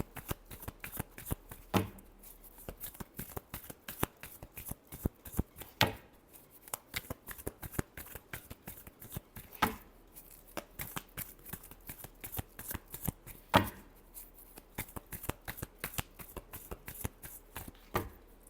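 Tarot cards are shuffled close up for the whole stretch, with rapid riffling flutters and repeated sharp snaps as the deck is squared.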